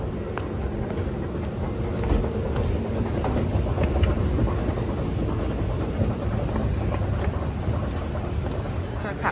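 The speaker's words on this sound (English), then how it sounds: "next train arrives in 1 minute" A steady rumble of an airport terminal train moving along at Dallas/Fort Worth airport, with continuous low mechanical noise and faint wind, no clear voices.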